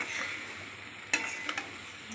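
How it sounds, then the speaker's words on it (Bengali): Mango polao rice with spices being stirred in a hot pan gives a steady faint sizzle, with a few sharp scraping clicks of the spoon against the pan close by. "ভালো করে নাড়াচাড়া করে নিলাম।"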